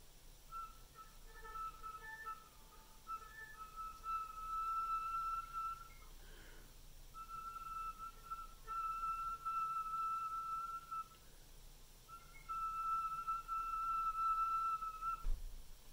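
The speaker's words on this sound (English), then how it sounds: "to get out those whistle tones" Very soft flute whistle tones, thin sustained high pitches in two long phrases with a brief gap, faint and isolated against quiet room noise.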